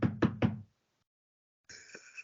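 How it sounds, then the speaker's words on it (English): Three deep, hard knocks on a desk in quick succession, loud and close, followed after a pause by a brief muffled thump under a faint voice. "it's a deep, hard knock."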